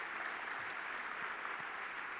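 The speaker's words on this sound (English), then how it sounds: "We can give them a round of applause." An audience at an Apollo anniversary event applauds the Apollo 8 crew, a quiet, steady patter of many hands clapping in a room, fairly distant and even throughout.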